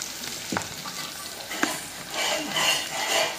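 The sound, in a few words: boiled broad beans being added to the pan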